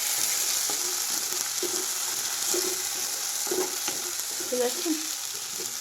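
A tomato, ginger and chili masala paste sizzles steadily in a pan as it fries, a continuous hiss with occasional stirring scrapes, while a voice speaks briefly over it.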